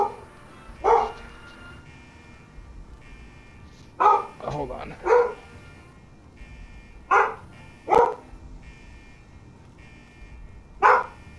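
A dog in the video game Fallout 4 barks in sharp, separate bursts, about six of them spread over several seconds, fairly close and loud against a quiet background.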